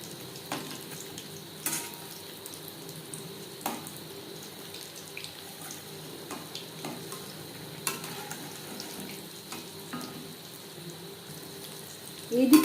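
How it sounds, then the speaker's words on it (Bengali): Egg pasanda chops frying in hot oil over a medium flame, producing a soft, even hiss with scattered light crackles throughout and no voices. "হাই ফ্লেমে তেল আমি গরম করে নিয়েছি, ভাজবো মিডিয়াম ফ্লেমে"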